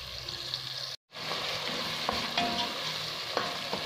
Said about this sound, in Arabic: تقلى الطماطيش مع البصل